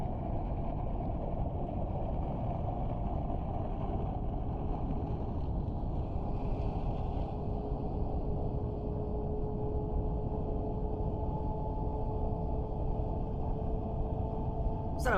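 A boat's engine drones steadily, muffled as if heard underwater, with a low humming tone running beneath a constant wash of noise.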